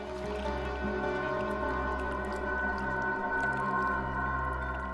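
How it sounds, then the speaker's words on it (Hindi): Running water comes through a phone line as a muffled, steady, tonal wash with faint drips, unbroken and moderately quiet, with nobody speaking. "पानी की आवाज आ रही है सर"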